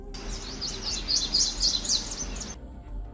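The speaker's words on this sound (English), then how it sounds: "So I have these bird noises over here." Birds chirp and tweet in quick bright bursts for a couple of seconds over a low background hum, then stop abruptly.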